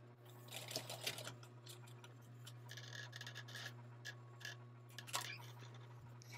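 Home sewing machine stitching an invisible zipper, a steady quiet mechanical hum with light rhythmic ticking of the needle running throughout, a few brief clicks and rustles of fabric, no talking.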